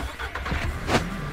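Car engine in the co-op survival game Road to Eden, a steady low rumble with no talk over it, swelling briefly near the end of a short stretch.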